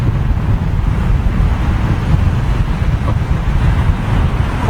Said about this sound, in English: Quite blustery. Got a bit of a crosswind right now.